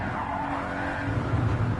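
Tires skid and scrape as a car slides out of control in a racing video game, a steady, loud rushing hiss that swells toward the end with engine rumble beneath.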